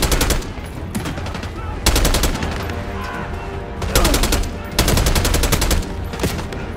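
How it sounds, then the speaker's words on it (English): Heavy automatic gunfire in Call of Duty: Black Ops 6 rattles in loud, rapid bursts separated by brief pauses, several distinct volleys of machine-gun fire close up, with faint combat chatter mixed underneath. "We're taking heavy fire at the helo."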